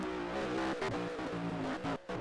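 Racing trucks roar around Pikes Peak Raceway in a close race, engines droning loud and steady with shifting pitch as they run side by side, with no talk over it.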